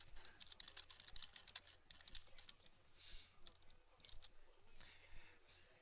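Rapid typing on a computer keyboard while editing a Joomla article, quiet close clicking of keys in irregular bursts with brief pauses.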